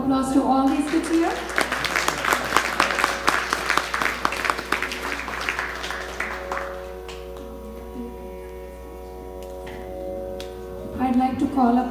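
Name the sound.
audience applause at a concert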